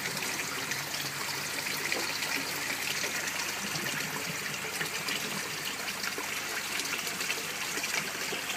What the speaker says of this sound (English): The air's on in the back corners there, just to put some extra oxygen in because of the salt treatment.